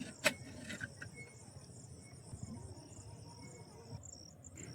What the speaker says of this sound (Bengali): সেই ঝিঁঝি পোকার আওয়াজ।